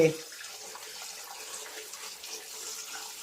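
Water runs steadily from a tap into a kitchen sink, a close continuous splashing hiss that carries on without a break.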